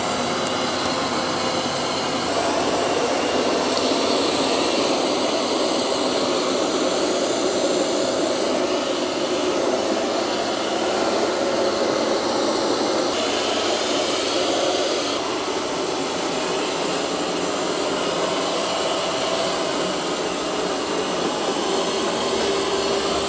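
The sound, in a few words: eufy X10 Pro Omni robot vacuum cleaning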